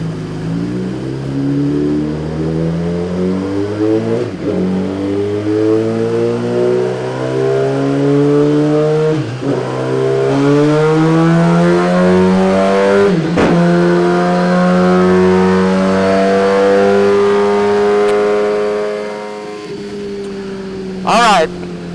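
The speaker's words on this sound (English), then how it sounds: "I'm just going to go for a ride to warm the bike up." A 2017 Suzuki GSX-R1000 motorcycle engine on a cold warm-up ride revs repeatedly through rising gears, each pull climbing in pitch before a brief shift dip, loud and continuous throughout.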